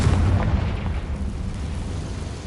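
A Confringo fire spell goes off in a Hogwarts video game as a deep, rumbling blast, loud at the start and then fading into a long low roar, with no speech.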